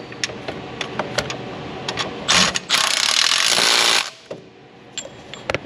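A hand ratchet snugs down bolts in the engine bay of a 2000 Nissan Pathfinder 3.3, making a run of quick close clicks. A longer burst of whirring or spinning breaks in partway through before the clicking resumes.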